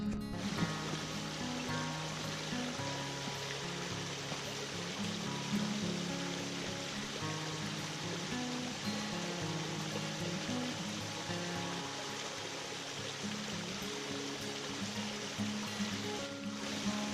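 McDowell Creek rushes through its falls in a steady, dense wash of water, running continuously and fairly loud with no voices over it.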